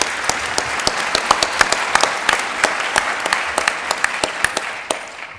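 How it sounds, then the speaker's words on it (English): Lecture audience applauds in a steady, moderately loud patter of many hands clapping, with sharp individual claps standing out before the applause tapers off near the end. "So first, applause."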